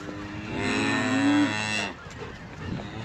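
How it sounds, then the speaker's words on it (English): A calf on a farm gives one long, loud, nasal moo lasting over a second, close by, then fades into quiet barn background. "Looks like these calves are ready for a refill."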